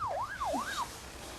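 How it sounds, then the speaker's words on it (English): An ambulance siren wails in a rising and falling pattern, clear and moderately close, for just over a second over a low background rumble. "Is that the ambulance?"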